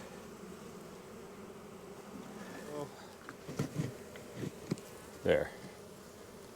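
Honeybees hum steadily and fairly faintly while being moved into a nucleus hive, a continuous low drone with a few louder bumps and handling sounds, and one brief spoken word near the end.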